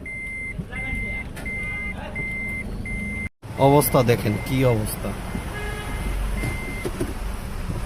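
A car turns around on a flooded street, its engine rumbling beneath repeated reversing beeps and a horn toot, while someone talks anxiously over the noise.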